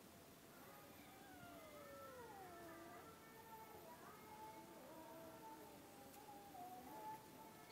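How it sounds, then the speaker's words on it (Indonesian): An orange kitten meows several times in drawn-out, wavering cries, faint against a steady background hiss. "Yang kucing oranye gitu ya"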